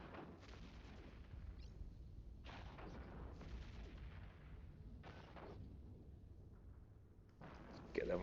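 Ship weapons in the Eve Echoes space game fire in repeated muffled booming volleys at irregular intervals, fairly faint, with a voice talking over them.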